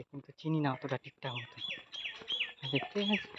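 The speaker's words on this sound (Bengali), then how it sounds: "কত সুন্দর, কি পাখির ডাক" Bright chirping birdsong rises along a quiet village road in the Sundarbans, with several short calls repeating in quick bursts while a person speaks nearby, partly over the calls.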